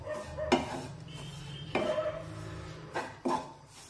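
A spoon clinks and scrapes in a pan while roasted gram flour (besan) and finely chopped coriander are mixed into a masala for bharli mirchi, stuffed chillies. Four distinct clinks stand out over a low, steady kitchen background.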